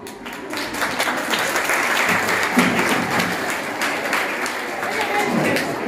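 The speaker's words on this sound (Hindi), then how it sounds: "खुद को देखकर खुश हो कि तालियां बजा लूं" Audience applause at a Women's Day event, a steady dense clapping that fills the whole stretch at moderate loudness, with voices talking faintly underneath.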